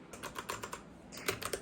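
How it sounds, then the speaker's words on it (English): Keys clack on a computer keyboard at a home work-from-home desk, a quick run of close, crisp strikes, a brief pause, then more taps, with no voices. "he doesn't really like the sound of this keyboard"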